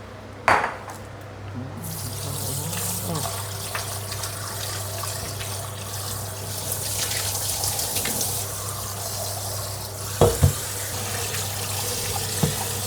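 Tap water runs steadily over food being rinsed in a home kitchen, with light clinks of dishes or cutlery and a couple of brief louder knocks, no talking.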